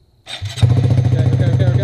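A 2017 Honda Grom motorcycle engine cranks briefly, then catches and settles into a steady, loud, close idle.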